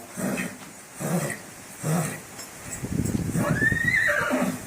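A horse snorts and blows several times in a rhythm, then lets out a loud, close whinny.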